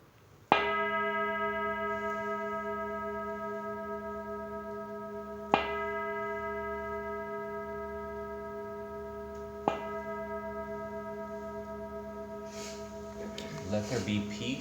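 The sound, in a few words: meditation bell being sounded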